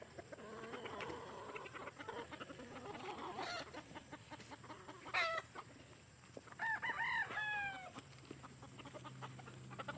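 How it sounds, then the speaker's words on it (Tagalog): Chickens and a rooster at a poultry farm, with clucking hens, a sharp crow and shorter calls over a quiet rural background, fairly faint and without speech. "magpapaligo kami ng mga manok ngayon"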